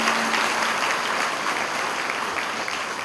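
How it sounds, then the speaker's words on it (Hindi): An audience at a college freshers' orientation day applauds loudly, a steady dense burst of clapping close by with no talking over it, tapering slightly toward the end. "जोरदार ताली, जोरदार ताली।"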